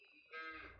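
A single short cow moo from cattle in the Farming Simulator 19 video game, heard alone and fairly quiet.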